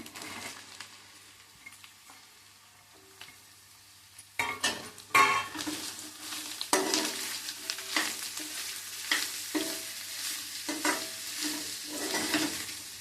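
Ridge gourd pieces for a moong dal curry drop into a hot pan, first a quiet low hum, then a sudden burst of sizzling with repeated scraping stirs and clatter, close and uneven.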